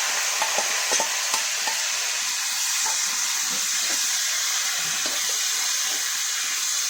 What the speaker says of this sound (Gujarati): હવે તેમાં આપણે ડુંગળી જે પીસી છે તે નાખી દઈશું